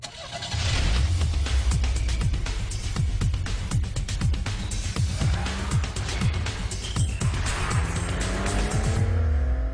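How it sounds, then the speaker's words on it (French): A small fast car on a straight road roars loudly past, its engine note rising as it nears and dropping away as it passes, with repeated gear-change surges and no talk. "À mesure que la voiture se rapproche, le son du moteur devient plus aigu."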